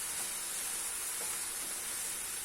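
Walnuts are roasted in a pan as a steady, even sizzling hiss that runs unbroken and fairly quiet from start to finish, with no talk.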